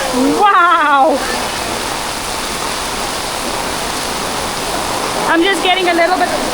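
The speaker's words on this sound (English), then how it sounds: "You can't even hear the waterfall because of the rain that's so heavy." Heavy rain pours near Athirappilly waterfall in Kerala, a loud, steady broadband hiss that fills the whole stretch, with someone speaking briefly at the start and again near the end.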